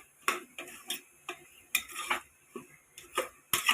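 A spoon scrapes and clinks in a pot about ten times in an irregular rhythm, mixing coriander powder and half a spoon of garam masala into potato kurma, close and alone with no talk.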